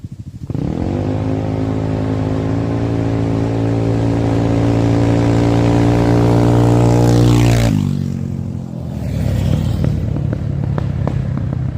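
Two ATVs, a 250 single-seater and a 300 Trailmaster, race together: loud, close engines rev up from idle into a sustained high whine, then drop sharply as they pass and fade into the distance.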